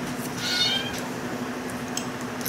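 Cats meow several times in quick, thin, high calls over a steady background hum, fairly close and clear.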